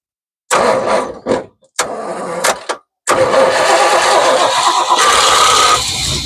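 A 1984 C30 truck engine that has sat for six years cranks in a few short bursts, then catches and runs on into a loud, rough, steady idle, heard close up with no talk.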